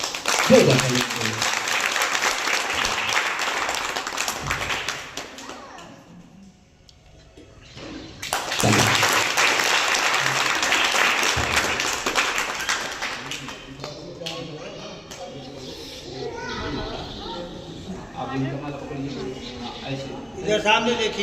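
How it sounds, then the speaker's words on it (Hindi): Loud, dense applause from a crowd at a Buddhist wedding garland ceremony in Jaunpur comes in two sustained bursts separated by a brief lull, followed by people talking. "जोरदार ताली चाहिए।"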